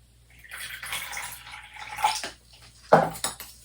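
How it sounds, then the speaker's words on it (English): Water is poured into chalk paint in a container and stirred, giving irregular close splashes, trickles and clinks of a utensil against the vessel, with one sharper knock near the end. "Let's add some water to this one."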